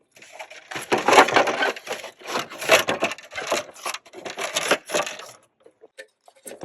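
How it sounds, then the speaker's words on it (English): A plastic fan shroud is pried and yanked out of a 2006-2008 Hyundai Sonata 3.3L V6 engine bay, making irregular bursts of creaking, scraping and rattling plastic clatter, close up, with short gaps between the sounds. "yank on the fan shroud, and that should make it pop out"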